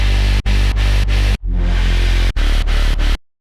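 Layered bass synth patch built in Serum 2, heavy and sustained, played as a series of loud chopped notes with short gaps between them before stopping abruptly.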